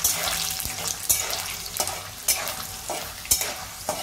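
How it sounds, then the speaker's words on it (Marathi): Peanuts roasting in salted oil in a pan for Kolhapuri bhadang, a crackling sizzle punctuated by regular scraping stirs every second or so, close and fairly loud, with no voices. "हे बघा, आता आपले शेंगदाणे भाजत आलेले आहेत।"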